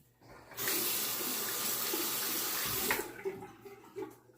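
A tap runs for rinsing after a shave with a Hoffritz slant razor, a loud steady gush of water into a sink that starts abruptly, flows for a couple of seconds, then cuts off, leaving small drips and splashes.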